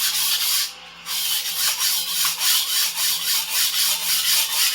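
An antique Dufresne and Co. chef knife is drawn across a sharpening stone in steady repeated gritty strokes, about ten rhythmic scrapes after a brief pause, close and clear.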